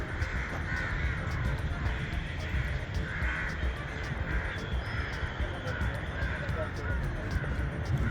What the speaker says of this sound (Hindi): बहुत ज़्यादा चीलें और कौवे हैं